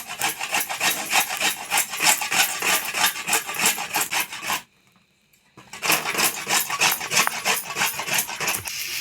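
Coconut is rubbed against a hand grater for a masala in a home kitchen, a steady rapid rasping scrape repeated in quick strokes, with a brief pause midway before the grating resumes.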